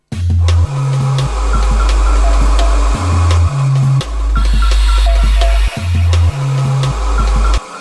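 Drum beat from an Emu Emulator E4X hardware sampler, looping heavy sub-bass kicks with snappy snare and hi-hat hits in a steady repeating pattern, loud and alone.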